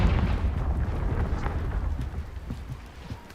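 A Confringo fire-blast spell in Hogwarts Legacy, heard as a rolling, booming explosion with a dense low rumble that sustains and slowly fades, no voices over it.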